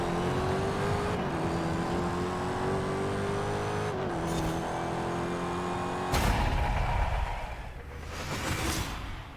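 A Dodge Challenger SRT Demon on a quarter-mile run, loud engine roar climbing through gear changes with brief pitch drops, then a rushing wind-noise surge near the end, no talk.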